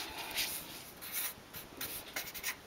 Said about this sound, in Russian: Пишу объем головы